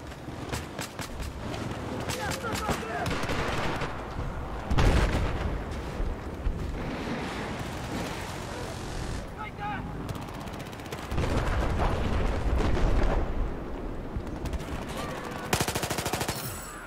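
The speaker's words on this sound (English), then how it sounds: "There's to be a machine gunner operating." Dense rapid machine gun fire and scattered gunshots from a Battlefield battle, loud and continuous with bursts and louder blasts, while someone talks over the fighting.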